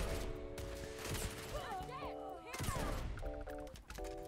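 Rapid gunfire from a gun in the video game Starfield, repeated sharp shots in bursts layered with electronic game effects and tones, loud and close, with a voice talking over it.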